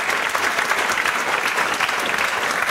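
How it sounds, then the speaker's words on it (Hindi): Audience applause at a school event honoring students, a dense steady clapping from a crowd lasting the whole stretch, moderately loud. "इसके लिए ज़ोरदार तालियां बजाओ।"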